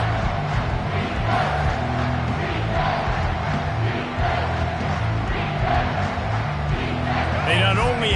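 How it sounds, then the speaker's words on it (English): A football stadium crowd roars in a loud, continuous wall of cheering and shouting on a 3rd and 4 play, steady from start to end, with voices mixed into the din. "the noise from this crowd on 3rd and 4"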